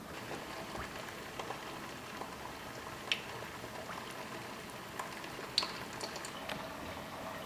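Steady bubbling and crackling of hot oil in a deep fryer, blanching French fries, a soft continuous sizzle with occasional sharper pops.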